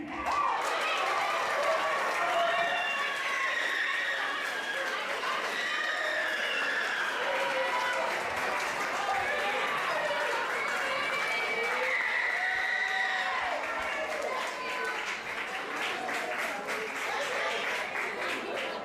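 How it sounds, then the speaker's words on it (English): A large crowd at a sports team's end-of-season celebration applauds and cheers loudly for a player named Ernie. The clapping is thick and continuous, and voices whoop and shout over it with no letup for the whole stretch. "that was the loudest round of applause I've heard all night"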